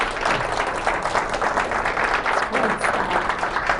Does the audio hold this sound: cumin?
no